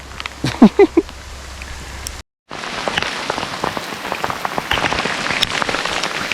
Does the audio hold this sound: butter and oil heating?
no